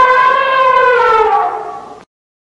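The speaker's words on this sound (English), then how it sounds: "Elephant," An elephant lets out one loud, close trumpet call, a brassy sustained blare of about two seconds that sags slightly in pitch before stopping abruptly.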